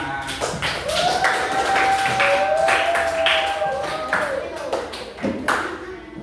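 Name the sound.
applause for group 5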